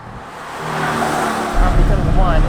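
Engine note of a Porsche 718 Cayman Style Edition, a mid-engine manual sports car, on the move. Steady engine drone rises in load and grows louder partway through, with a deeper rumble from the second half onward.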